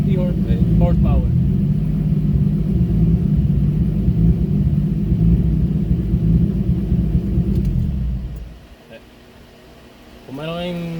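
873 hp Toyota Supra VVTi turbo engine on a dyno pull: a loud, sustained, close roar for about eight seconds that abruptly drops away, followed by a brief voice.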